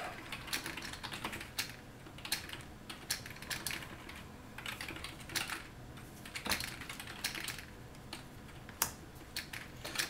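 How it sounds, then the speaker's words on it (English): Quick, irregular key taps on a computer keyboard with occasional heavier space-bar presses, close but quiet, continuing steadily with no voices. "The space button is still really tough. I need to find a better keyboard for this."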